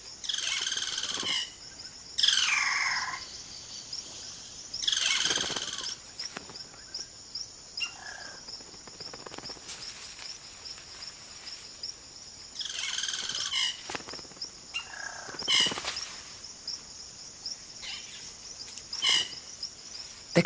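Male cacique birds call repeatedly in the Amazon rainforest, delivering bursts of varied, liquid whistles and rattling notes at intervals over a continuous high insect drone, fairly close and with no talk.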